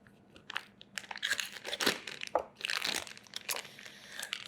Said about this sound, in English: All right, so now we're gonna cut our halloumi.